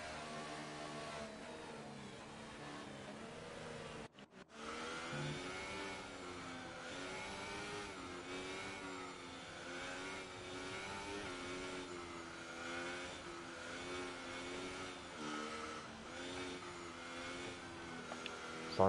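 Formula race cars on a formation lap at a German circuit in a racing video game drone along continuously, their engines rising and falling steadily in a dense, unbroken mechanical roar with one brief dropout.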